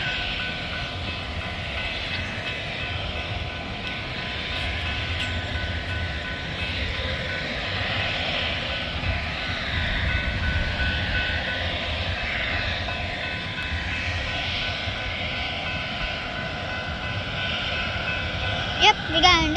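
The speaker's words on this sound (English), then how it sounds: "Yep, we got another train coming." A train approaches and rolls past in a long, steady rumble with rising and falling rail noise, heard at moderate distance while people talk in the background.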